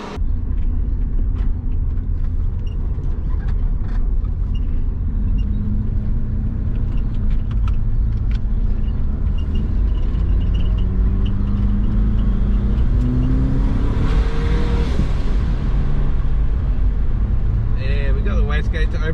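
A twin-turbo Subaru Forester fitted with 1300cc injectors, heard from inside while driving: a steady engine rumble and whir that climbs as it accelerates, with talk over the top.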